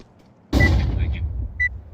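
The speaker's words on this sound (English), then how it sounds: "Deploying flashbang." A flashbang grenade going off in Counter-Strike 2: one sudden loud bang after a quiet moment, followed by a ringing, decaying tail and faint game sounds.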